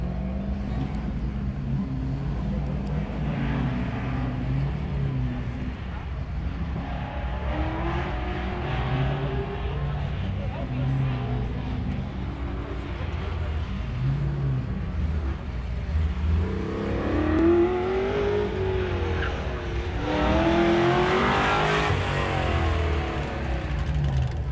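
A 1965 Chevrolet Chevelle race car accelerates through a timed cone course at the UMI King of the Mountain event, its engine rising and falling in pitch through repeated revs, building louder toward the end.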